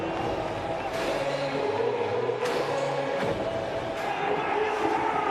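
Large crowd at an India vs Pakistan cricket match, a steady broad murmur of spectators with occasional swells and sharp bursts, distant and continuous beneath a commentator's voice.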